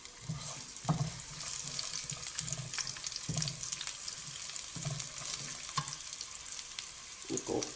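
Chopped onion sautés in a spoonful and a half of oil, giving a soft, steady sizzle with occasional stirring knocks and scrapes in the pan.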